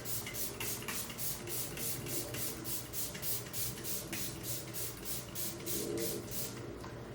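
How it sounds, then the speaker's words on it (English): LYS natural setting spray is misted onto a face in a fast run of about twenty short, hissing pumps at a steady rhythm, close and continuous with no voices. "So I'm going to melt everything into my skin with the LYS natural setting spray."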